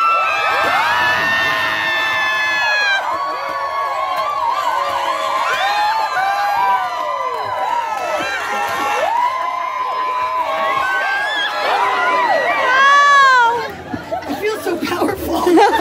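A crowd of adults and children at an outdoor show cheers and shouts loudly and continuously, with high whoops and excited yelling rising in waves before breaking off near the end.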